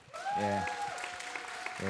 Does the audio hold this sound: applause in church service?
yes